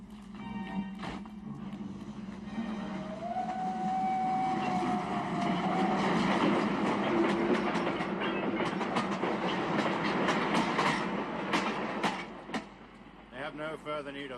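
A train rolls on rails, a steady rumbling clatter that swells and holds, with a whistle-like tone early on and people talking over it near the end.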